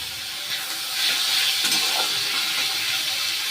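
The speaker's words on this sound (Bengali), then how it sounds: "পেঁয়াজগুলো একটু ভাজা ভাজা করে নেব" Onions sizzling in hot oil for a spicy potato curry, a steady loud hiss and crackle from the pan with no voices.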